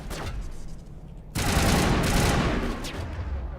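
Enemy sniper fire in the video game Mass Effect 1: a sharp, loud burst of gunfire cuts in partway through, over a dense rumbling game background.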